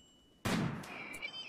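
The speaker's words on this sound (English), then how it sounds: "Yeah, it's two gunshots in the back of the face." Video game gunfire in Rimworld: one sharp, loud shot bursting out of quiet and then ringing off, followed by a softer second crack and a short high-pitched tone.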